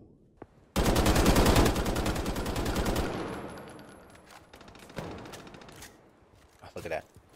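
A recoil-heavy gun in a shooter video game fires a long, rapid burst of loud shots that trails off into scattered fainter gunfire, with a player's voice heard near the end.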